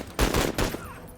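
A video game gun fires a quick burst of three or four sharp, booming shots close together, followed by a fading tail, with no talk.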